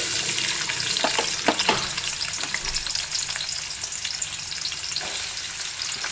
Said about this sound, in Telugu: పచ్చిమిర్చిలో ఆనియన్స్ వేసేస్తున్నా.